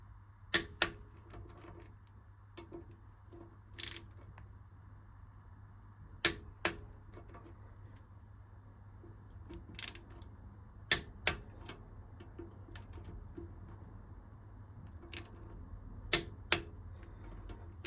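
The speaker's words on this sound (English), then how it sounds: "Right, first of all, let's torque up these." A torque wrench clicking as it tightens the brake bolts on a GSXR 1000 motorcycle, with sharp, close clicks mostly in quick pairs spread across a quiet workshop background with a low hum.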